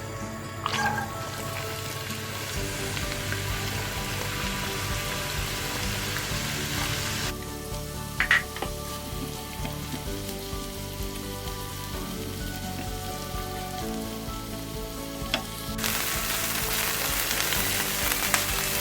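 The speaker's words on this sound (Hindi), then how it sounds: "अब इसमें 2 टेबल स्पून के करीब ऑयल चला जाएगा और इसमें प्याज डाल देंगे।" Chopped onions frying in about two tablespoons of oil in a pan on a gas stove, producing a steady, close, crackling sizzle that continues for the whole stretch with occasional stirring knocks.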